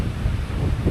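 Strong wind buffets a seaside campsite in San Juan, Batangas, a loud, low roar close to the microphone that gusts unevenly throughout.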